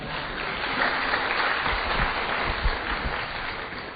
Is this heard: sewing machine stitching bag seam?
no